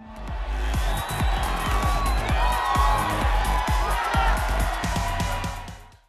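A crowd cheers and whoops at the close of a street fashion show in Paris, a loud, sustained swell of voices over a thumping, steady music beat that fades out at the end.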